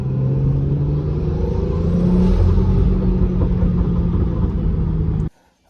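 A BMW M5 drives during its break-in miles, a loud steady low engine and road rumble with a droning tone, close and continuous, cutting off abruptly near the end.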